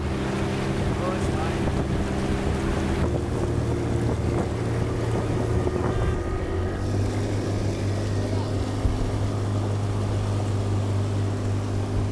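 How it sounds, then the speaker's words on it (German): A motorboat cruising on open water near a Peruvian island drones steadily with a low engine hum, wind buffeting the microphone and water rushing along the hull throughout. "Wir sind mit dem Motorboot hingefahren."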